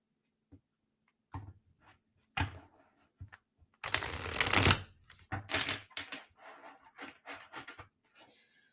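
Tarot cards are shuffled in short, crisp bursts of riffling and rubbing, with a longer dense shuffle in the middle, close and fairly loud against quiet gaps.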